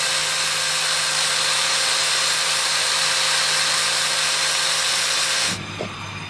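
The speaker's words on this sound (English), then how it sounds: "So it really didn't take a lot with the flapper wheel." Flap wheel on a power grinder working a steel beadlock wheel, a loud continuous high whir and grinding hiss that cuts off abruptly near the end, leaving a faint clatter.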